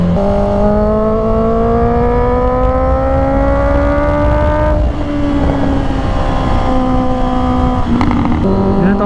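Honda CB650R E-Clutch motorcycle riding through foggy twisty roads, its engine whining up in pitch under steady throttle, dropping briefly at a shift, then climbing again, loud and close with wind roar.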